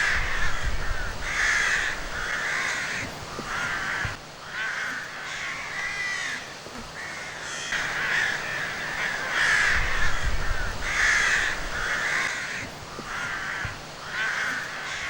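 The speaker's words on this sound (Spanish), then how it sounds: "También los córvidos, que se reúnen en grandes colonias" Colony of crows cawing continuously, many harsh calls overlapping in repeated bursts, fairly close and loud over an outdoor background.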